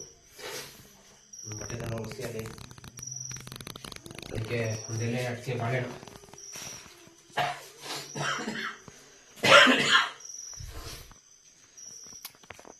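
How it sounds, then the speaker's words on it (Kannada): Coughing during a Shravana pooja at home. A harsh burst near the end stands out among murmured talk, with crickets chirping faintly in the background. "ಕೂಗಿಲೆ ಕಂಠ ಯಾಕೋ ಕೆಮ್ಮುತ್ತಾ ಇದೆ"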